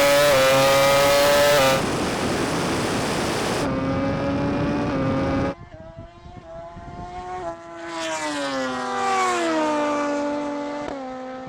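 A Rimac Nevera electric car and a MotoGP motorcycle in a drag race, loud high-pitched motor whine and engine roar that cut abruptly, followed by a rising engine pitch as a vehicle accelerates past and fades.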